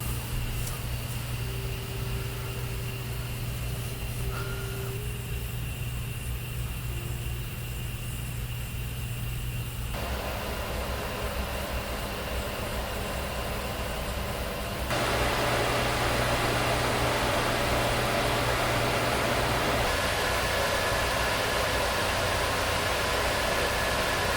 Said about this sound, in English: The Turbofrost MAX uses 1 big fan spinning from 600 to 3000 RPM.